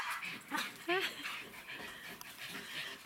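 A dog whimpers and pants among a household of five dogs and a cat, the soft whines and breathy panting heard close by, mixed with a person speaking quietly.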